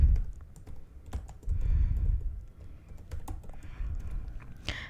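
Clicks of typing on a computer keyboard in short bursts, fairly close, with soft low thumps and a sharper clack near the end, and no voice.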